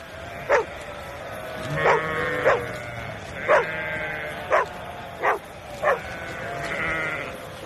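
A sheepdog barks sharply about eight times at a steady pace while herding a flock, with sheep bleating continuously beneath the barks.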